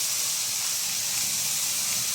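A seasoning base sautés in browned meat drippings in a pan, giving a continuous bright hissing sizzle that stays even and close with no voices.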